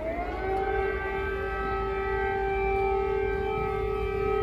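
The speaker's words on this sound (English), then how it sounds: "Air raid sirens have sounded in Kyiv this morning" An air raid siren in Kyiv winds up and holds a steady, wailing tone, loud and continuous with no voices present.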